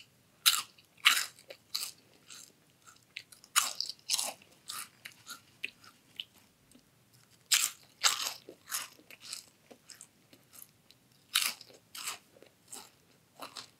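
Crisp, loud crunching and chewing of Doritos 3D puffed corn chips, sharp bites arriving in irregular clusters with quieter chewing between them, close up and with no talking.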